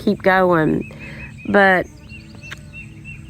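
Birds honk and call loudly at a pond in Southwest Georgia in the morning, two long harmonic goose-like calls close by, with someone speaking briefly between them.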